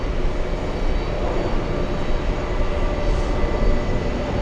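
Boeing 767-400 jet airliner at JFK airport, a steady loud broadband engine roar that holds constant throughout, fairly close, with no voices.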